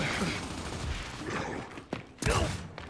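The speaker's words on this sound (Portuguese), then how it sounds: "Ele errou tiro em você, ele não queria dar esse tiro." Gunfire in a Gears 5 match, several sharp shots and bursts with the loudest cracks near the end, amid muffled game noise and faint background talk.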